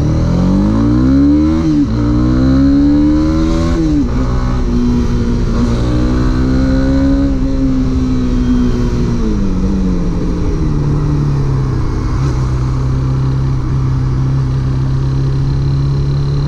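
A Honda CB300R motorcycle with dual-channel ABS and a 30 bhp engine accelerates hard. The engine note climbs in several rising sweeps through the gear changes, then settles into a loud steady drone close by.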